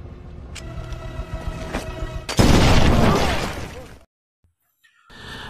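A landmine blast in a film scene erupts suddenly as one loud, broad explosion with a rumbling tail that fades over about a second and a half, preceded by softer scene noise and followed by brief silence.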